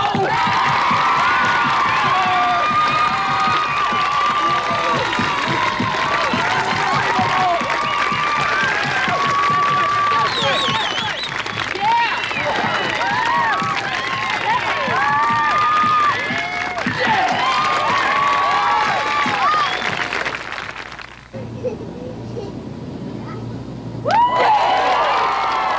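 Street crowd watching a busker juggle machetes, cheering, whooping and applauding loudly for about twenty seconds before the noise drops off abruptly, then a brief burst of voices returns near the end.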